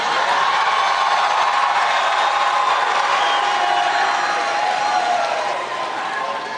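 An audience at a speech cheers and applauds in a continuous loud roar of clapping and voices that holds steady, then eases slightly toward the end.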